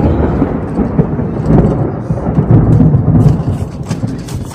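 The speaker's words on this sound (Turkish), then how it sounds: "Bir yağmur bastıracak ki." Thunder rumbles through a heavy approaching rainstorm, a loud continuous roar of low rumbling mixed with rain hiss and scattered crackles, filling the whole stretch without talk.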